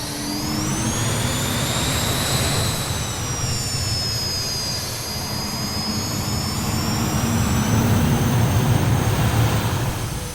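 A BAE Hawk T1 jet taxiing in Microsoft Flight Simulator, its engine a steady, loud whine with a high tonal note and a deep rumble holding throughout with no talk.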